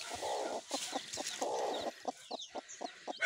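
Backyard chickens clucking in short repeated bursts, with some longer cackling runs and brief chirps between, fairly close and alone without talk.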